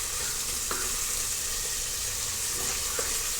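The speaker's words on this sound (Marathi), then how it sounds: "आता आपण थोडीशी कोथिंबीर तेलामध्ये टाकून घेणार आहोत" Fresh coriander sizzles in hot oil in a pressure cooker pan for masale bhat, a dense continuous frying hiss with a few faint stirring clinks.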